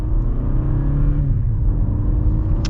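A 2022 Toyota Camry XLE with an 8-speed automatic pulls away, giving a steady low engine rumble and whirring road noise inside the cabin, continuous and fairly loud without speech.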